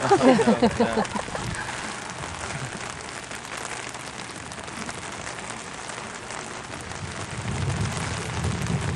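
Steady rain pours down outdoors at a horse demonstration, a continuous hiss of drops close to the microphone with a few brief knocks at the start and a heavier patch near the end.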